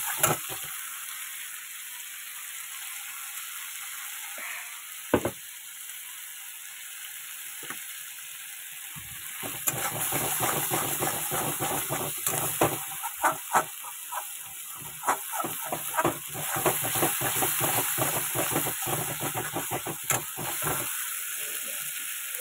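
Pointed gourd sautéed in oil with salt, turmeric and sugar: a faint hiss at first, then a louder close sizzle with dense, rapid stirring scrapes for the second half.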